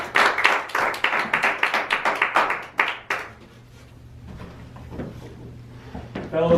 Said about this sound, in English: let's give him a warm round of applause as he comes up to it